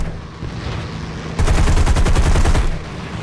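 A P-36 Hawk fighter's machine guns fire in War Thunder, a loud rapid burst of evenly spaced shots lasting about a second after a low engine drone.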